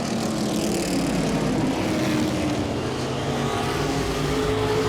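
Modified race car engines roar and drone continuously at Langley Speedway, a loud buzzing whine with shifting pitch as cars pass by on the track.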